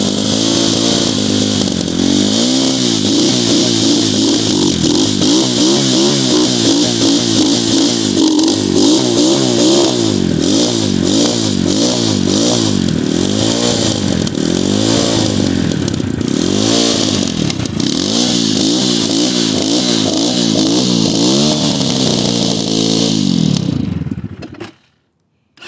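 A 250cc Xmoto dirt bike engine revs hard and continuously, its loud rasping note rising and falling in rapid throttle blips for nearly the whole stretch before cutting off abruptly at the end; no talking over it.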